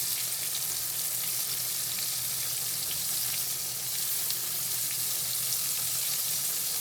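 Pork chops frying in a pan for a pork chops and cabbage dish, a steady, close, loud sizzle with crackling hiss throughout and no talking.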